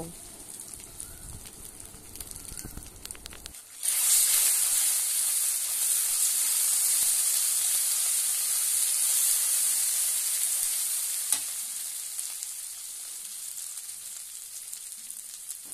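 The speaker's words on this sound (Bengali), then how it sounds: "তারপর একটু ভালোভাবে কষিয়ে নেব।" Masala being sautéed in a pan, a loud, steady sizzle that bursts in after a few quieter seconds and then hisses on without letting up.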